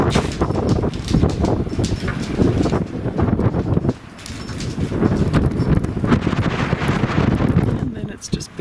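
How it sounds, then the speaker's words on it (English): Strong gusting wind buffets the microphone outdoors after a blizzard, loud rough rumbling that surges and eases with a brief lull midway, while a person talks through it. "It's still windy, by the way."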